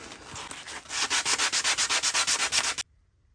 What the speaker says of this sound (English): I'm taking some coarse sandpaper, then I'm going to thin it out and get lighter and lighter